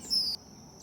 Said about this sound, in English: there's a bird right over my head.